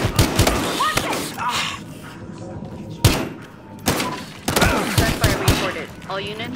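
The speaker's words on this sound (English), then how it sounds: "Gunfire reported." Sharp bursts of gunfire crack out in several loud shots amid shouting voices, with a brief lull between volleys, in the video game Battlefield Hardline.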